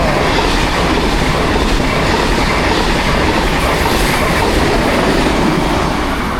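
A train rumbles past close by in a village beside the tracks, a continuous loud roar of wheels on rails with rhythmic clatter and no voices throughout.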